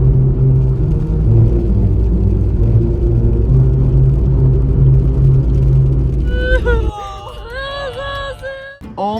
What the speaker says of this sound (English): a cute musical road where the road actually sings to you as you